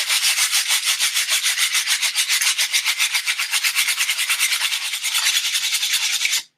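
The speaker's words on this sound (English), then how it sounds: "when I sand my wands, I like to sand them into the trash can or over my workbench" Sandpaper rubs back and forth on a wooden wand in a fast, steady rhythm, a close, bright hissing scratch repeating about seven strokes per second, stopping abruptly at the end.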